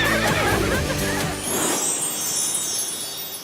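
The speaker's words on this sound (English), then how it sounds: "That's a baby horse." A cartoon baby horse neighs in an animated Barbie scene at the beach, one loud, close whinny opening the moment and fading out into quiet background.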